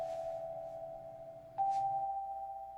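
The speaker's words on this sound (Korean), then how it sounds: "현관 초인종이 울렸다." A front-door doorbell rings indoors: two steady electronic tones, a lower one held for about a second and a half, then a slightly higher one sustained to the end. The chime is moderately quiet, with no voices.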